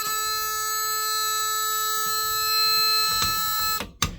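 An Edwards 1527 fire alarm panel's horn test: a loud, steady electronic alarm horn blares continuously for nearly four seconds, then stops abruptly, followed by a couple of clicks.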